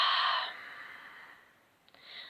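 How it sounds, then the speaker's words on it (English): A forceful ujjayi exhale through an open mouth, a breathy hiss strongest at the start and fading over half a second, followed by quiet and a soft second breath near the end. "Breathing out as if you're cleaning the mirror,"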